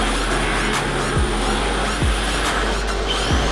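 A Team Magic E4D MF radio-controlled drift car runs on its first outing, giving a steady high electric whine with small tire squeaks and bumps, heard continuously and close without speech.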